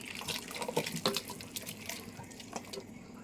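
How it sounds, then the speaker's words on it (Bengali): Water splashes and trickles into a pressure cooker for a few seconds, with quiet irregular pouring and dripping close by, faint overall. "আরো একটু জল দাও"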